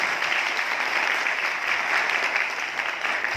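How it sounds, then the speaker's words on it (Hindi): A crowd at a live speech claps steadily and fairly loudly, a dense continuous wash of many hands that holds without a break. "बजा लो तालियां अच्छे से बजा लो।"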